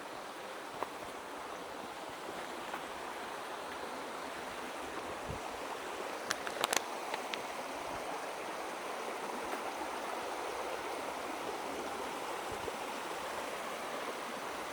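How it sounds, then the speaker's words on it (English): Swollen river on a nature trail, high after rain, pours past in a steady, full wash of flowing water, loud and unbroken, with a few faint knocks near the middle and no speech. "We have to cross the river to follow the trail."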